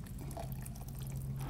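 About 1.5 liters of water pours steadily into a cooking pot to just cover potatoes, a soft continuous close splashing trickle at low volume.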